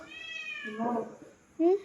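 A cat meows twice, a drawn-out cry followed by a short, sharper one, close by, with a voice speaking briefly in between.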